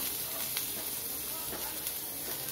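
Finely chopped onions sizzle in a little oil in a kadai, a soft, steady frying hiss with faint crackles, close and even throughout.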